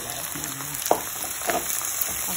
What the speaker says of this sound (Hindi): अब हमें चिकन को भी अच्छे तरीके से भूनना है।